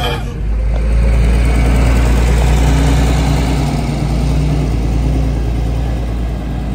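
A vintage Hungarian Ikarus city bus on a retro route in Tbilisi idles with a loud, steady low diesel rumble and droning engine hum, close and continuous throughout.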